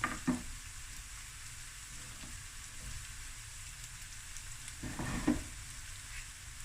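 Onions and garlic fry in a pan for pilau rice, giving a steady, close sizzle that swells briefly near the start and again toward the end.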